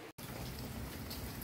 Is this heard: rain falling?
yes